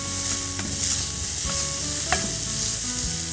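Spinach leaves sauté in a pan for foxtail millet mushroom rice, giving a steady, close sizzle with occasional scraping stirs of a spatula. A faint tonal hum lingers in the background, and no one speaks.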